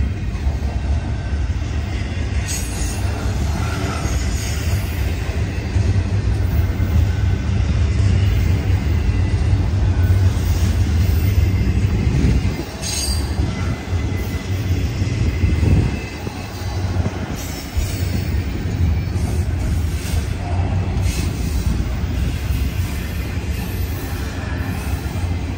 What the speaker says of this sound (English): Back-to-back Union Pacific, the second train running today.